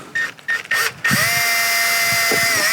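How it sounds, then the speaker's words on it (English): A few short bursts of a power drill making a pilot hole in a Mercedes-Benz C250 door during interior handle repair, then a sustained high whine as it runs steadily, close and loud. "So you can just get a drill,"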